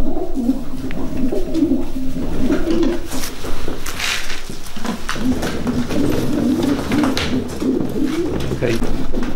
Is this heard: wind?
no